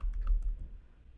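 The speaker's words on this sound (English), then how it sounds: "enter your email address, then create a password" An email address and password are typed on a computer keyboard, a short, close burst of soft key taps that fades quickly.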